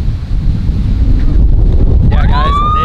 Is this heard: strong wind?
yes